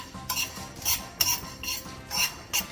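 Nutmeg and bay leaves dry roast in a pan over a low to medium flame, stirred with a spoon in a steady rhythm of light scrapes and soft metallic taps, close and fairly quiet, with no voices.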